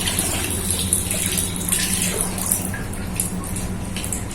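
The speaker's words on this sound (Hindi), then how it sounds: "पानी आ भी रहा है, ताजे ताजे पानी आ रहा है, और इसे मैं वॉश कर लेती हूँ।" Tap water pours steadily while lentils are rinsed, a constant close splashing rush with small shifts as the water hits the dal, and no one speaking.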